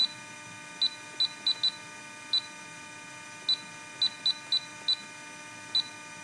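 Futaba T7C radio control transmitter beeping as its dial is turned, a string of about eleven short, high, clean beeps at uneven intervals over a faint steady hum.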